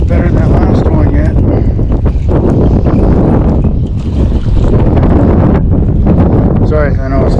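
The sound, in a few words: loud wind on a boat while fishing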